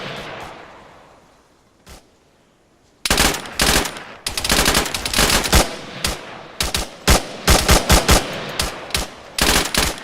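Sustained bursts of machine gun fire in Modern Warfare, a first-person shooter, with loud rapid volleys repeating close up after a brief quiet start.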